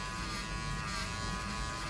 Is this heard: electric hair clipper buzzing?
yes